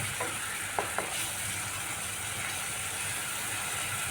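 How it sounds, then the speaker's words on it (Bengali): Spice masala fries in oil over a raised flame for a vegetarian squash curry. A steady, moderate sizzling hiss runs throughout, with a couple of brief clicks near the start. "এবারে মশলাটাকে সুন্দর করে কষিয়ে নিতে হবে"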